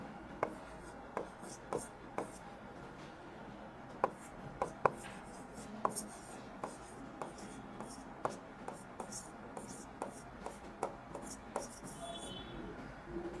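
A pen or pencil writes out a sentence by hand on paper, giving soft scratchy strokes with sharp little taps at irregular intervals, close and quiet, with no talking.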